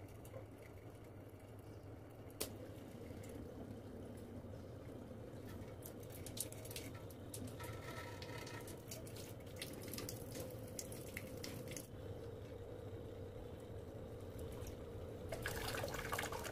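A home water filter machine hums steadily with water running through its pipes, a continuous low drone and flowing wash with a few faint clicks and drips, no talking.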